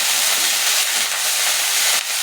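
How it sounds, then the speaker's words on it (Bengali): Lentil bori fry in hot mustard oil, a loud, close, continuous sizzling hiss that stays steady for a couple of seconds with a slight dip near the end. "বড়কুলিটা একটু ভাজা করে নামিয়ে নিই,"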